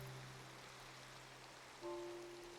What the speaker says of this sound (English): I hear that it's raining.